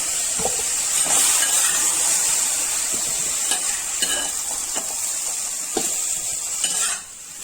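Broccoli fries lightly in an oil-filled pan, a steady close sizzle punctuated by repeated clinks and scrapes of a spoon stirring against the metal.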